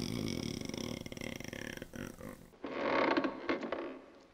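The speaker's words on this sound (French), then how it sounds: "Putain, comment ça grince" Creaking and mechanical grinding from a scene in the 1964 western A Fistful of Dollars, a loud continuous creak that drops off, then returns in louder uneven bursts.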